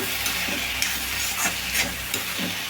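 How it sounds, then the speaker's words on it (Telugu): Chili powder and coriander powder are stirred into a brinjal and tomato curry in a hot pan, with a spoon scraping again and again through a constant loud sizzle, up close and with no talking. "చూడండి కారం ధనియాల పొడి వేసాం కదండి రెండు కలుపుకున్నాము"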